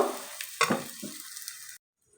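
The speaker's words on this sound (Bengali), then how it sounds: "তো ঠিক ওই একইভাবে আমি সবগুলো ভেজে নেব" Food fries in a pan with close crackling sizzle and a few stirring scrapes, then cuts off abruptly into near silence.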